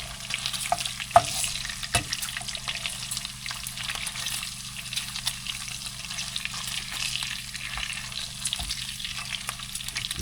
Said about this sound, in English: I'm just frying up a bunch of bacon